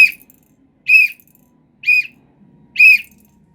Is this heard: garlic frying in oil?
no